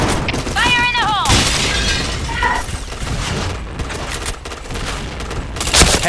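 A grenade explosion and gunfire in a video game form a loud, dense, continuous wall of blasts and crackling shots lasting several seconds, with brief tonal game sounds near the start.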